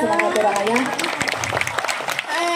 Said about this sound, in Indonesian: Tepuk tangan untuk penabuh yang luar biasa sekali.